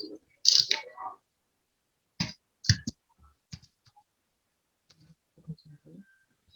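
Code typed on a computer keyboard: a few sharp, separated key clicks spaced by pauses, mixed with brief bits of nearby voice.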